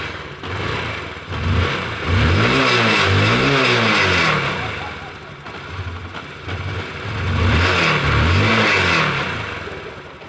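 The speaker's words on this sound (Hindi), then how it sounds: "इंजन की आवाज़ आप सुन सकते हो कि बिल्कुल मक्खन जैसी है" A Hero Discover 125 motorcycle engine runs close by, revving up in two strong surges with a steady idle between them.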